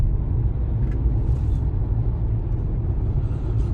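Heavy road traffic rumbles along an elevated road near NAIA, a low, steady drone of passing cars and engines with no clear individual passes.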